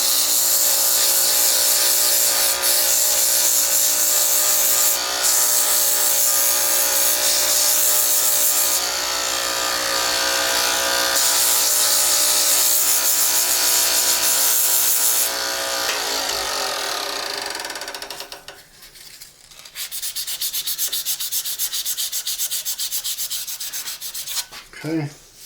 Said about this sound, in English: I'm going to sand this. Come in with 220.